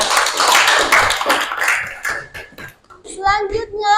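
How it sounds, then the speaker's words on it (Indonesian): Students in a school classroom clap for a group, brief bursts of applause mixed with children's chatter, then a voice speaks clearly near the end. "Tepuk tangan untuk kelompok 3."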